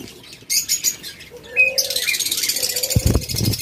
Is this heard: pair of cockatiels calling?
yes